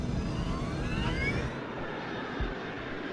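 A Malaysia Airlines airliner accelerates down the runway for a takeoff just after midnight, its jet engines giving a loud, steady roar with a rising whine.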